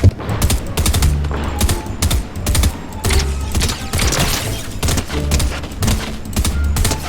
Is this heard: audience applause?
no